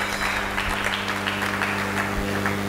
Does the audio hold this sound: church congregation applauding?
yes